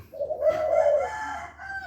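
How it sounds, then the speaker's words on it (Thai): A bantam chicken calls near caged doves in a Thai bird-keeping yard, a single drawn-out crowing cry lasting over a second, loud and close with no talk. "เดี๋ยวไก่ก็มากวนครับนี่ครับนี่ครับไก่แจ้สวย ๆชอบมากวนครับ"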